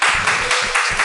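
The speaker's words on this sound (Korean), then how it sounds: "우리 박수 한번 쳐줘." Church congregation clapping together during a Sunday service, a short burst of rhythmic, fairly loud claps in a regular beat, close by.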